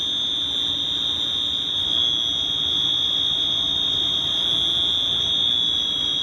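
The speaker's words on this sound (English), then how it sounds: "It is now in alarm." A loud, continuous electronic fire alarm buzzer from a FIKE clean agent fire suppression system panel during a test sounds steadily without pause, a harsh high tone filling the space.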